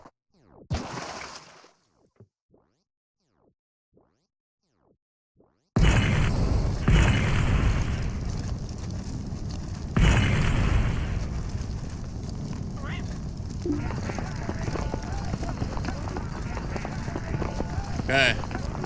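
A bomb goes off in a video game: after near silence, a sudden loud boom erupts into a sustained, rumbling roar with a second heavy hit, while voices talk over the noise.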